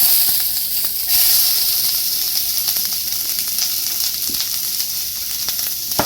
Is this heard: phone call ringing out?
no